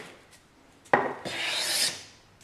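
A hand plane takes a single close, crisp shaving stroke across sassafras wood, a short knock followed by a rasping hiss lasting under a second.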